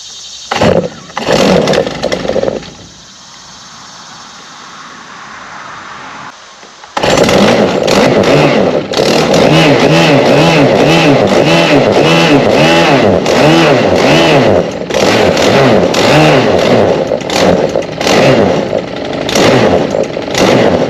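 Stihl HT131 pole pruner with a suspected bad clutch: a few short engine bursts and a quieter lull, then the engine catches and runs loud and continuous, revving up and down repeatedly.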